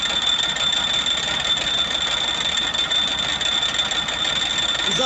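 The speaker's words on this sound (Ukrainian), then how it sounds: "оце такий звук і на старому реверсі" The worn reverse gear of a T-25 tractor grinds continuously with a dense, rattling mechanical whir that stays loud and steady throughout, with no voices.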